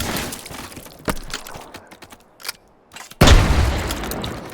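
A shotgun fired in the VR shooting game H3VR: scattered clicks and mechanical handling noises, then one loud, close, booming blast near the end, with no talking.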